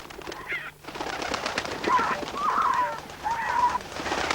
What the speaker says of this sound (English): the air was filled with the beating of wings.